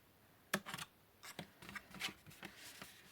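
Scissors snip through paper for a Christmas ornament in a series of close, quiet cuts with short rustles in between, and no talking.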